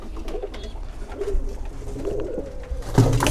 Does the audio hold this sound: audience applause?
no